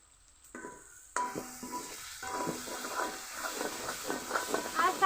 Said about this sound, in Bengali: এখন আরো সামান্য জল দিয়ে আরো কিছুক্ষণ কষিয়ে নেব